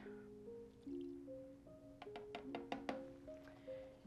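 Distilled water poured into a soap-making oil blend gives soft, faint trickling and dripping with a few small splashy bursts partway through, close and quiet in a still room.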